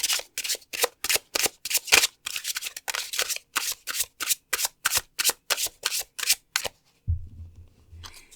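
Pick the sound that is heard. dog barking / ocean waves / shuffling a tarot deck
shuffling a tarot deck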